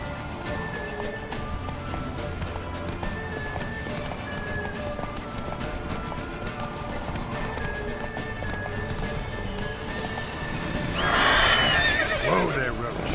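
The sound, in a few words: horse Roach galloping and neighing, Witcher 3 video game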